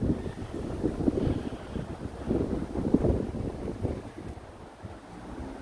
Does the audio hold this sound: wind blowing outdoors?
yes